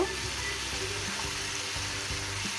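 Jackfruit seeds going into a pot of simmering chicken stock, heard as a steady, close, bubbling hiss of liquid on the stove with faint low knocks underneath and no talking.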